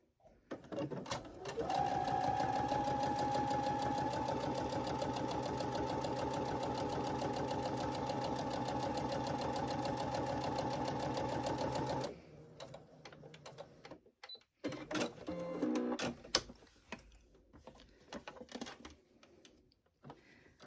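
A sewing machine stitches a quarter-inch seam on half-square-triangle quilt pieces, running as a loud, steady, close whir for about ten seconds, then stops and leaves quieter fabric handling and a few clicks.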